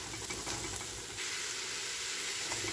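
Mushrooms sizzling in a hot pan for a mushroom curry, a loud continuous steamy hiss that swells slightly partway through, heard up close with no voices.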